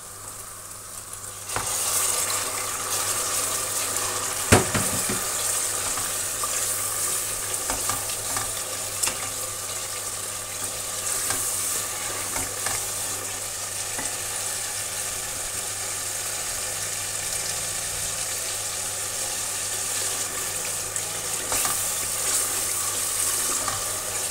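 Spice masala fries with a splash of water in a pan for a turnip curry, giving a steady, close sizzle and crackle with occasional stirring clinks throughout and no voices.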